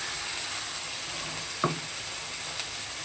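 A wet ginger, cumin, dried chilli and coriander paste sizzles in hot oil with ridge gourd and potato, a loud, even hiss broken once by a short clatter.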